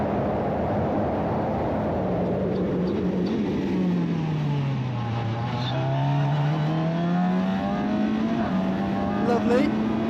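GB4 single-seater race car at Donington Park heard from onboard, engine droning loudly and steadily as the pitch falls under braking for the chicane and then climbs again on acceleration, continuous and close.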